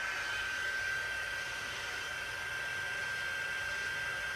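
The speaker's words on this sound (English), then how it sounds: "And I'm going to heat emboss and then see what it comes." A heat gun blows steadily while heat embossing a card, a constant close airy whir with a thin high whine and no talk.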